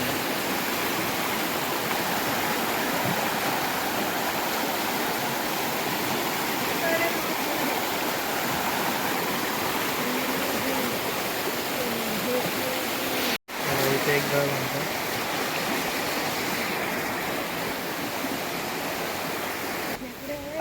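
A river's steady rushing current flows throughout, a broad continuous wash, with a brief dropout partway through.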